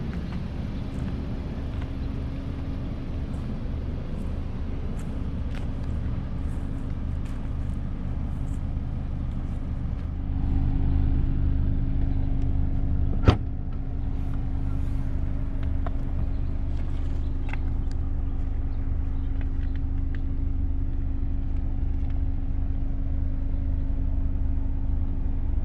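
A 2024 Mazda3 2.5S Carbon Edition hatchback cruising on the road, a steady low engine and road hum from inside the cabin, with one brief thump midway and no talk.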